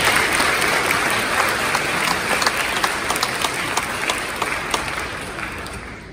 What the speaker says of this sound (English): Give him a round of applause for sharing his story.